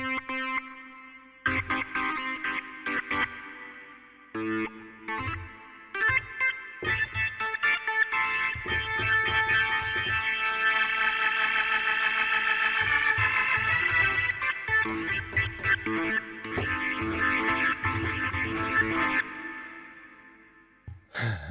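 Arturia synthesizer playing a prog rock distortion preset, gritty buzzing chords and sustained distorted tones with swelling, breathy textures and echoing tails, loud and continuous over about twenty seconds with short stabs at the start and end, no voices.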